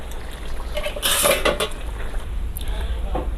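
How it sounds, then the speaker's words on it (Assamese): A metal wok (kadai) is set down on a stove with a bright clang and a few scraping clinks, then faint clatter over low background hum. "আকৌ মই এনেকৈ কেৰাহী বহাই ল'লোঁ।"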